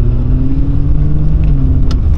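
A BMW E39 540i pulls away with a loud, close, steady engine drone that rises slightly in pitch, with no talking.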